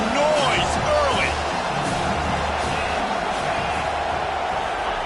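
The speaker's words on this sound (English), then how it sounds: "This crowd bringing the energy and noise early." A stadium crowd at a football game keeps up a loud, continuous roar, with scattered shouts and whistles rising out of the dense wash of noise.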